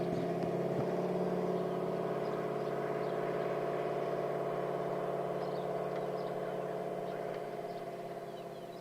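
A Curry 2023 Evolution pre-run buggy in a Baja desert rally launches off the line, its engine droning loudly and steadily with a humming, even tone that fades a little toward the end.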